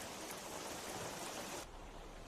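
Steady rain falling outdoors, a dense even hiss of water with no voices, holding constant before the texture thins slightly near the end.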